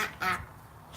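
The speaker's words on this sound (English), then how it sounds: "Duck is not pleased." A duck in a fenced backyard pen gives one short, loud, nasal quack close by, followed by a faint outdoor hush.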